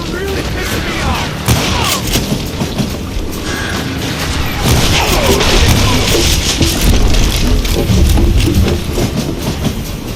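A moving train in the western shooter game Call of Juarez: Gunslinger, a loud continuous rumbling roar with rattling clatter and occasional heavy thumps, steady and close throughout.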